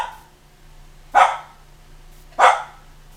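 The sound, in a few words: dog barking outside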